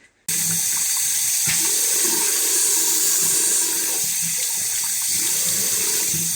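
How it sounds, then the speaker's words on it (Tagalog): A tap runs into a sink while someone washes their face, a steady close splashing rush of water that starts abruptly and continues unbroken. "So ngayon guys is maghilam usong na ta."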